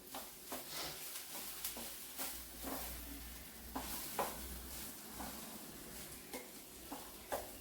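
Coconut and onion stalks being stirred in a wok, with a spatula scraping and tapping the pan in soft, irregular strokes that stay faint and close throughout.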